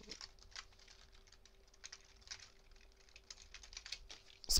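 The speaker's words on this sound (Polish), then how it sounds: "Klikam wszystkie guziki naraz" Many computer keyboard keys are pressed at once during a horror game session, giving a fast, clattering patter of clicks at moderate loudness, with a sharper burst of keystrokes at the very end.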